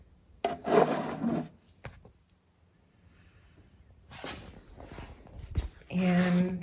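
Cloth rubbing lemon oil over a wooden furniture top and trim: soft, uneven scrubbing strokes in short bursts, close by, with breathy vocal sounds between them.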